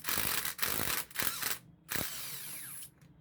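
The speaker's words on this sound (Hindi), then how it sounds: "उसके लिए हमें इसके बोल्ट को खोलना होगा।" A power tool whirring and ratcheting in short bursts as bolts come off a motorcycle's chain cover, loud and close, with brief pauses between runs.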